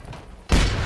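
Sudden loud explosion in Just Cause 3 erupts after a quiet moment, a heavy booming blast with a rumbling tail that stays loud to the end.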